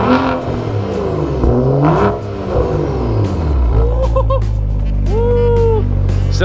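A BMW E90 with a custom exhaust fires up and revs, its engine note climbing and falling in loud, close sweeps above a deep rumble, with faint voices in the background.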